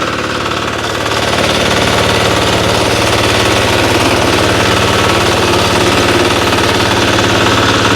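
A heavy hybrid walk-behind tractor engine runs close by with a loud, steady, rapid knocking chug that stays even for the whole stretch after a slightly quieter first second, and no talking.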